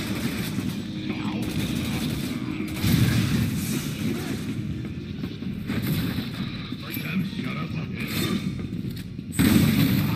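Enemies open fire in the Resident Evil 6 video game: sustained bursts of gunfire and booming impacts form a dense, rumbling barrage that swells loudly twice, with game sound effects and no clear speech.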